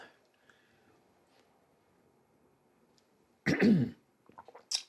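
A sudden close cough and throat clearing breaks an otherwise quiet room, followed by a few short, softer follow-up sounds.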